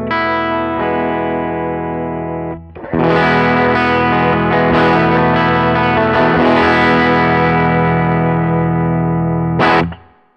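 Electric guitar through an amp or amp sim with the volume pushed hot for mild distortion: a sustained chord rings, then a short pause and a dense strummed passage follows, ending on a sharp final chord, close and loud with no talk.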